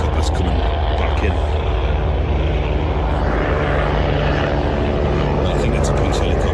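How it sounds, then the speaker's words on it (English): A police helicopter flies overhead near an airport: continuous rotor and engine drone, loud and steady throughout, with a faint beating texture under broadband rushing noise. "Police helicopters coming back in."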